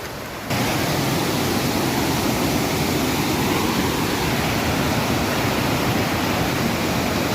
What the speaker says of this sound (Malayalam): അവിടെയാണ് നമ്മളെ ചെറിയ വെള്ളച്ചാട്ടം.